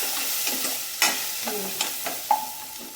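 Spices crackle and sizzle in hot oil for tempering sambar, a steady hiss with sharp pops and a few spoon scrapes against the pan.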